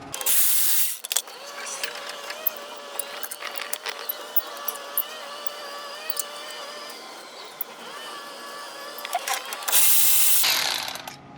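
A hand ratchet works a rusty brake caliper screw on a 2006 Nissan Frontier's front brakes, giving a run of close metallic clicks and scraping mechanical sounds, with a louder burst of noise at the start and end.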